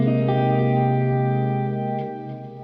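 Sustained ambient guitar wash from a Line 6 Helix freeze preset, layered chorus, echo and reverb holding a dense chord that slowly shifts and fades slightly toward the end, heard alone.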